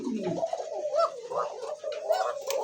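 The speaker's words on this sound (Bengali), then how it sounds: "কোকা কবুতরের ডাক শুনবেন" Coca pigeons coo close by in a repeated, rolling series of soft throaty calls, heard alone without talk.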